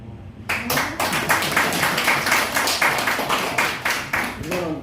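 Audience at a Rotary club training session in Cheonan claps in steady, evenly spaced, fairly loud applause lasting several seconds, with a faint voice underneath.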